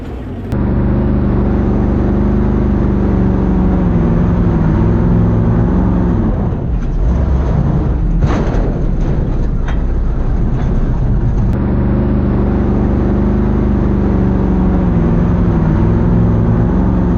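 A loud race car engine roars steadily during practice on a slick drag strip track at night, with a harsher, rattling burst of revving in the middle before settling back into a constant drone.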